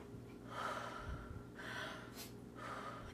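A person imitates a ferret's breathing with a few soft, breathy snorting sniffs and gasps repeated at a steady pace, close and quiet.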